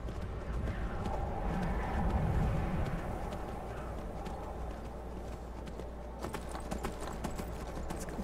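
Horse hooves galloping in the Skyrim video game, a rapid continuous clip-clop over a low steady background, with faint bird calls toward the end.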